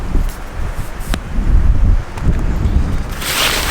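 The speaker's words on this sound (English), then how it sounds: "It is super windy out here." Strong wind buffets the microphone outdoors during a bed tent setup, deep rumbling gusts that rise and fall with occasional rustling, loud and close throughout.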